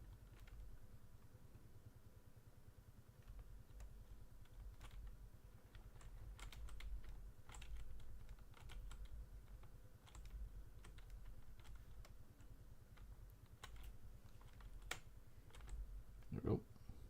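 Fingers tap at a computer keyboard while playing Gold Mining Simulator, a scattered run of quick, light key clicks over a low steady hum, with a sharper burst of presses near the end.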